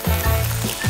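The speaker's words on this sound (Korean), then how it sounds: "기름을 데우고 얇게 썬 토티아를 볶는 거예요." Thin-sliced tortilla strips sizzle in hot oil, a steady crackling hiss running throughout with some low clunks from the pan beneath.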